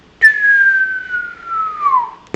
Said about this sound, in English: Why can't I whistle?